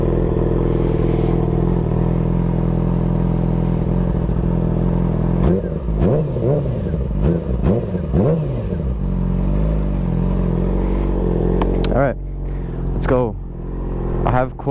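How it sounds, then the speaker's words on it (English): A warm motorcycle engine starting and settling into a steady, loud idle close by, with a few sharp throttle blips and clatter partway through. "I know it's not a cold start, but warm start."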